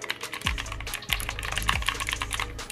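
Rapid, crisp mechanical button clicks from a Razer Orbweaver Chroma gaming keypad in a dense, continuous patter, close up, with a few low thumps underneath.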